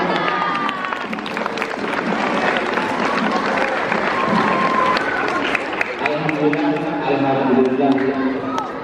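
A crowd of students at a school orientation opening claps and murmurs steadily, a dense field of applause mixed with chatter, with voices growing more prominent toward the end.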